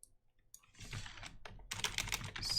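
Keystrokes clatter on a computer keyboard during Python coding, starting sparse and quiet, then building into a fast, dense burst of close-up typing.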